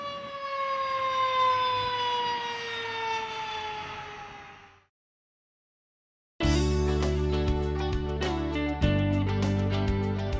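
An emergency vehicle's siren wails in a falling tone for about five seconds before cutting off. After a brief silence, loud music with a steady beat takes over.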